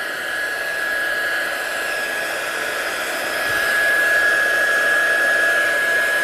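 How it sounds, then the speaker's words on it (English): Heat gun blasting hot air to dry stamped ink on a die-cut craft piece, a steady, loud, close whooshing roar with a thin high whine that swells slightly partway through and continues without a break, with no talking. "We'll just bring the heat gun in. We might as well keep it there while we dry it a little bit. Just give it a quick blast."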